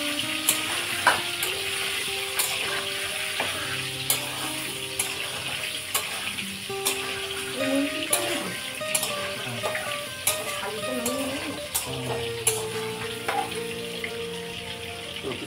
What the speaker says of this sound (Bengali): আলুটা ভাজা ভাজা হচ্ছে।